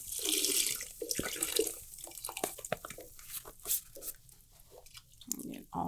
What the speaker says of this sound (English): in goes our water